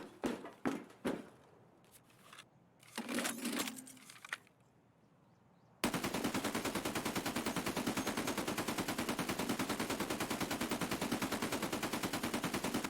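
Mounted machine gun in Escape From Tarkov, first a few scattered sharp shots and bursts, then a long, loud, unbroken stream of rapid automatic fire lasting several seconds.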